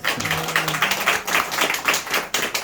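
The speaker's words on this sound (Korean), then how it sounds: "박수 한번 주세요" Applause from a seminar audience for a sponsor, steady clapping from a crowd sustained throughout, with faint voices in the background.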